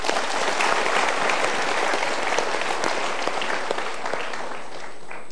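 A studio audience at an Indonesian motivational talk show breaks into sustained, dense applause that holds steady and loud for the whole stretch with no talking over it.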